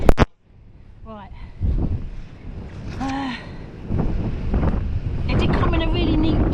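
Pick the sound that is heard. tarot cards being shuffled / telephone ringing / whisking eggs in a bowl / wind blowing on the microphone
wind blowing on the microphone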